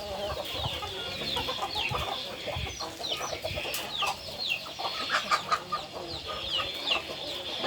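A flock of chickens clucks continuously, with overlapping chirpy calls and short squawks rising and falling, fairly close and busy.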